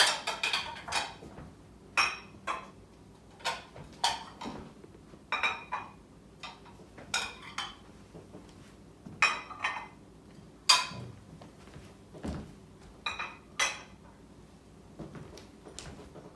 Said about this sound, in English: Now I'm going to follow that up with my soup bowl, just right on top.